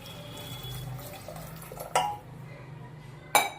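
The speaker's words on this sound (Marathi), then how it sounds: "त्यामध्ये आपण एक ग्लास ग्लासभर पाणी ओतूया" A glass of water is poured into sautéed moth beans for misal, a soft watery rush over low kitchen hum, broken by two sharp metallic clinks against the pot.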